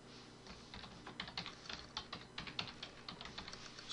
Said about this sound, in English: So I can now select my text tool, click in here and type